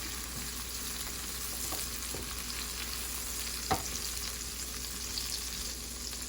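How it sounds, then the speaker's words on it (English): Cherry tomatoes sautéing in garlic-infused oil in a pan, a quiet, continuous close sizzle with occasional soft stirring knocks and one sharper clack near the end, no one speaking. "I'm just going to saute them a little bit."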